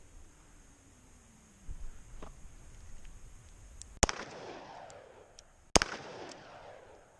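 Two sharp, loud gunshots from a Kimber K6S .357 revolver firing full-power loads, spaced about two seconds apart, each with a short echoing tail over quiet outdoor background.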